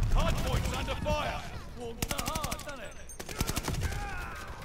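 Rapid bursts of gunfire from a video game battle clatter continuously over in-game voices and radio-style announcements, loud and close with repeated volleys throughout.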